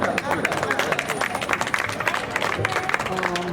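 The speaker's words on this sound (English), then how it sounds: "Make some noise, y'all. Clap it up, clap it up, clap it up." A crowd at a community news event claps and cheers steadily, dense applause mixed with voices and whoops, a few shouts rising out of the sustained babble.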